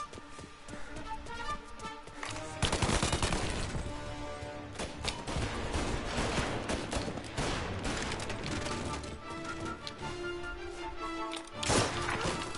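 A Tommy gun fires in Mafia Definitive Edition, loud sustained bursts of rapid gunfire with crashing impacts, dense and continuous through the battle.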